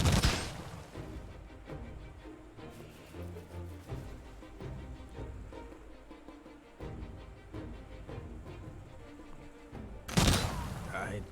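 Units firing in a Humankind video game battle: scattered volleys of gunfire and thuds over a busy battle bed, opening and closing with heavier bursts, mostly moderate and distant-sounding.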